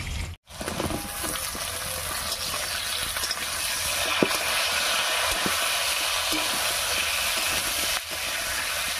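Pointed gourd pieces tossed onto potatoes already frying in a pan give a steady, close sizzle with soft stirring scrapes and light taps, after a brief silent gap at the start.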